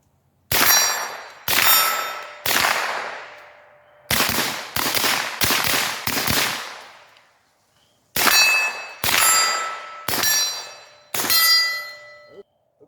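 Sharp .22 shots from a 16-inch M4-profile upper fitted with a CMMG Bravo 22 conversion kit, each followed by a ringing clang off steel targets, fired in spaced groups of single and rapid shots, loud and close.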